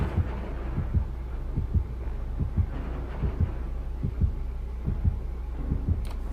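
Heartbeat effect from the Dead by Daylight horror video game, a steady series of deep, close thumping double beats repeating about every second and a half, alone with no talking.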